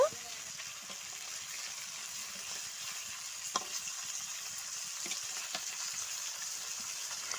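Rohu fish pieces fry in hot oil in a kadai for an Odisha fish curry, giving a steady loud sizzle with occasional sharp crackles and stirring clicks throughout.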